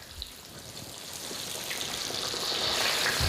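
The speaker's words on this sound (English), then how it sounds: "I'm just gonna fry these tomatoes, keep frying them" Tomatoes and bacon fry in a pan, a steady sizzle and crackle that slowly grows louder, heard close with no talking.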